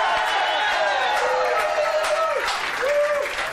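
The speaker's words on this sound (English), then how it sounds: "Can we just have a big round of applause for Channel 4 for giving us this show back?" A studio audience on a live Channel 4 entertainment show claps and cheers loudly and continuously, a dense close wash of applause with a few whistles and shouts rising through it.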